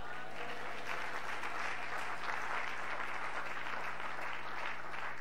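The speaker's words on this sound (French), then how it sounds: "Et on se peut dire un amen et acclamer très fort." A church congregation at a French-language Christian service claps and cheers in a steady, even roar of applause that fills the whole stretch without a break.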